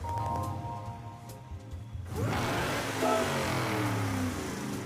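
A Chevrolet Camaro in Gran Turismo 7 starts with a low idle, then its engine revs sharply and holds a loud, rising roar through the rest of the stretch.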